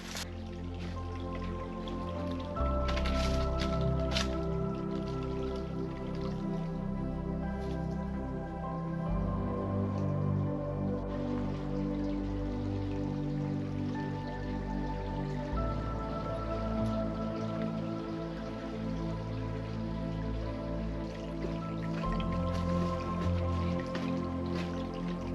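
Water drips and trickles steadily at a large mountain spring behind a rock wall in Sawmill Canyon in Arizona's Santa Rita Mountains, a close, continuous patter of drops that runs on with no talking.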